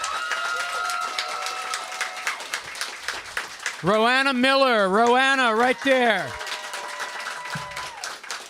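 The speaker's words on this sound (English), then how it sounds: "for you to applaud them like applause is going out of style" An audience applauds graduating seniors at a capstone celebration: scattered, moderately loud clapping rattles beneath an announcer's voice as names are called out over a microphone.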